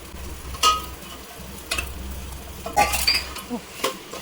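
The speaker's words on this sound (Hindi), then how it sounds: "मैं अब इसमें अपना मैरिनेटेड कटहल डाल दूँगी" Marinated jackfruit hits partly cooked tomatoes in a pan for jackfruit biryani, with a few sharp clinks and stirring scrapes over a low, steady sizzle.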